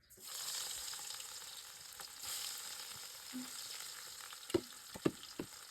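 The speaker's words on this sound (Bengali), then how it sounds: "এই মাছগুলো আমরা ছেড়ে দেবো দুইটা ভেজে নেবো" Pieces of rohu fish fry in hot oil in a pan, a soft steady sizzle with a few sharp pops and clicks toward the end, heard up close and alone.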